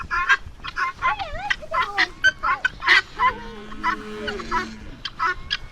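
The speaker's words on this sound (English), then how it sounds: "There's a chicken out over there too." Fowl in a backyard give a string of short clucks and squawks, some rising and warbling, moderately loud and close, with quieter calls trailing underneath and no speech.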